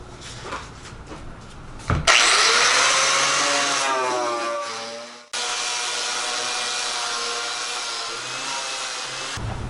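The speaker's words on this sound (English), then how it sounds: "You don't need to watch me grind this thing." Power grinder working over a Gheenoe boat hull during a messy rebuild, loud and steady with a whining pitch that dips as the tool bogs, a brief cut-out, then another long grinding pass.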